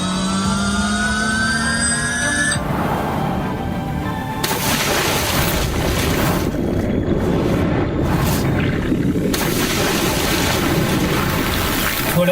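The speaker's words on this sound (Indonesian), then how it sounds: "mobil ini telah sengaja dicemplungkan ke dalam sungai atau danau" Loud, churning rush of water with heavy splashing and turbulence as a car is plunged into a river or lake, broken by abrupt cuts, preceded by a brief tonal whine at the start.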